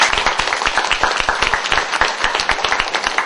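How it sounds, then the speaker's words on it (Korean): Warm audience applause at a university Korean speaking contest for international students, welcoming a professor to the stage; steady, dense clapping from many hands throughout, fairly loud and close. "뜨거운 박수로 환영해 주시기 바랍니다."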